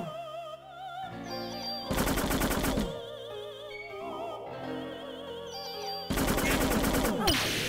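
Two loud bursts of rapid gunfire in the Parasite Eve game, each a dense rattle lasting about a second, set against tonal game music and sound effects.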